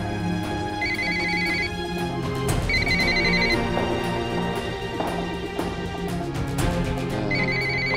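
A telephone ringtone repeats unanswered, its electronic melodic bursts cycling through several rings alone, with no talk over it.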